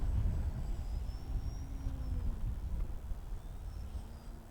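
A Millennium Master RC airplane flies at a distance, its faint thin motor whine drifting over a steady outdoor rumble with no voices.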